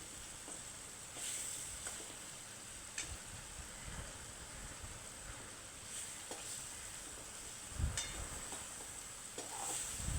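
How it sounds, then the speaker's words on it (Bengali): Fish pieces sear in a pan with a steady, soft sizzle and hiss, broken by occasional stirring scrapes and light clanks of the utensil, with no voices. "মাছটাকে ভালোভাবে আমি কষায় নিচ্ছি"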